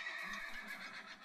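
A Minecraft horse lets out a single whinny that rises and wavers for just over a second, faint and alone with no talk over it.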